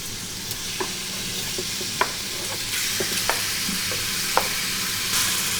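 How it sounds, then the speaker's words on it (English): Beef and onion stir-fried in canola oil inside a pressure cooker give a steady close sizzle, with scattered sharp taps and scrapes of the stirring utensil against the pot. "and then we will stir the beef and the onion in."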